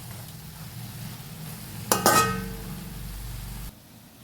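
A spoon scrapes and clinks against a pan while ponnamkanni spinach thoran is stirred, a short clattering burst in the middle of quiet kitchen background, ending with a soft low hum.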